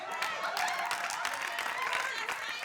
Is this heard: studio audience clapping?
yes